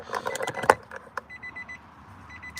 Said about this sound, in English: Sorry, beeping's annoying.